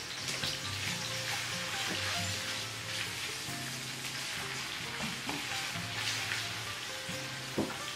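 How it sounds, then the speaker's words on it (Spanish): Onion sizzles and crackles steadily in a pan on an induction cooktop, with a continuous frying hiss and occasional stirring noises throughout. "La cebolla la salteamos, no hay que dorarla, sino nada más cristalizarla."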